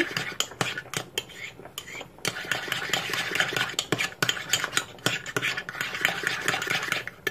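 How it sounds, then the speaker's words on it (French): A spoon stirs honey and other ingredients together in a bowl for a chicken nugget sauce, giving steady close scraping and clinking against the bowl that continues through the whole stretch, with no talking. "Bien mélanger les ingrédients."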